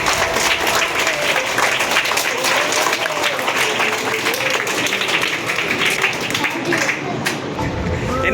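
A classroom of students at a school election clapping for the winner, loud sustained applause close by with scattered voices mixed in.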